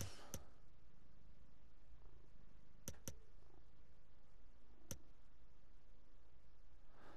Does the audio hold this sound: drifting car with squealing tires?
no